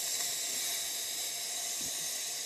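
Steam wand hissing from a compact Olympia Cremina or Maximatic espresso machine, a heat-exchanger model, giving a steady, loud, continuous broadband hiss without pause.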